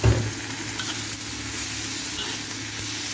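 Beef ribs fry in a pan with a loud, steady, close crackling sizzle that starts with a brief thump as they go in and then holds constant.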